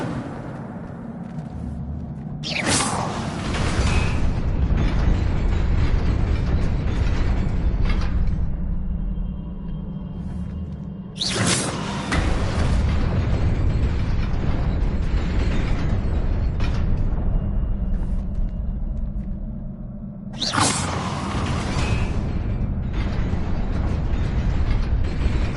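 Incendio fire spell cast in the video game Hogwarts Legacy, three loud bursts of roaring flame at intervals over a steady rumbling background, each burst flaring sharply then settling into continuous crackling game noise.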